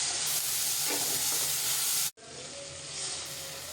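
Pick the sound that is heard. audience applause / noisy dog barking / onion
onion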